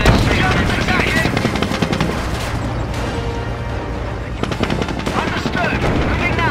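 Dense battlefield gunfire in the World War II strategy game Company of Heroes: Opposing Fronts, loud continuous machine-gun bursts and crackling shots with occasional booms, shouted unit commands mixed underneath.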